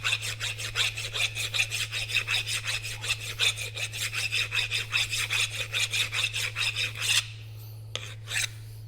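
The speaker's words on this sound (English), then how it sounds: "It doesn't take too much to give it a good file." Steady rapid rasping strokes of a hand file scraping rust from an ABS ring on a BMW 320d M Sport, loud and close, about two dozen even strokes before it stops and a couple of faint scrapes follow.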